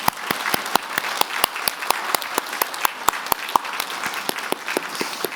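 A church congregation applauds retirees during a Sunday worship service, giving steady, evenly paced rhythmic clapping from many hands that carries on for over five seconds.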